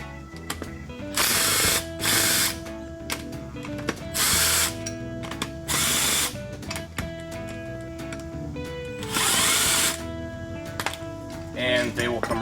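Ratchet wrench turning a 17mm socket on Nissan front hub bearing bolts, loud bursts of rapid clicking in several separate pulls, with mechanical clatter and pauses between them.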